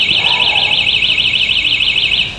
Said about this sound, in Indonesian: tombol kayak gambar bell gini atau lonceng. Ini kita tinggal pencet sekali dan dia akan ngeluarin suara.